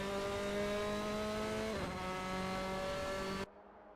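Race car engines in a Formula-style racing video game whine loudly and steadily as the field resumes after a virtual safety car period. The pitch dips briefly mid-way, then the roar cuts off abruptly near the end.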